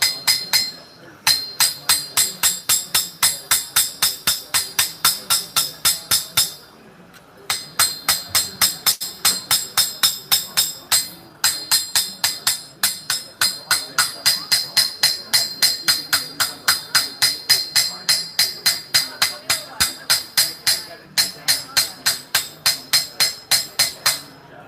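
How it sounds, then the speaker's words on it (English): Steady metallic hammer blows ring out on an anvil as veins are beaten into a metal leaf at a wood show, a fast, loud, even rhythm with a few short pauses between bursts. "just hammering the veins out"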